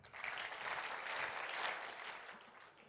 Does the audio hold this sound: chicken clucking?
no